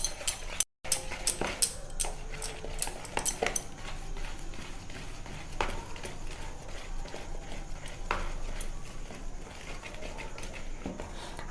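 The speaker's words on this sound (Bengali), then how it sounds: "সব কিছুকে একসাথে মিক্সড করে নেব।" Cake batter stirred together in a bowl with a utensil, a continuous run of quick tapping clinks and scraping knocks, sharper in the first few seconds and then steady.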